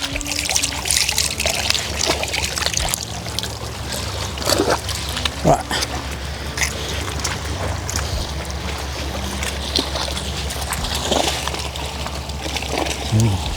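Sea grapes gathered at Broome are rinsed in water, with sloshing, trickling and splashing close by as people talk over the washing.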